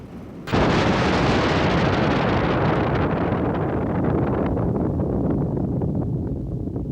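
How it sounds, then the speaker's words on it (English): A sudden loud blast of a bomb exploding in mid-air beneath a balloon erupts after a brief quiet moment, then a long roaring rumble sustains and slowly fades. "The first bombs were slung under a balloon and exploded in mid-air."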